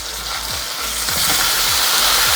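Ginger, about a spoonful, frying in oil in a pan for a tomato egg curry, a steady close sizzle with soft clicks of stirring running throughout, no voices.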